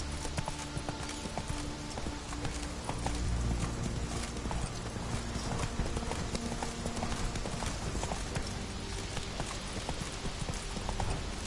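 Horse hooves clip-clop in a steady galloping rhythm throughout, with an occasional whinny, as the horse Roach runs in The Witcher 3 video game over a constant game soundscape.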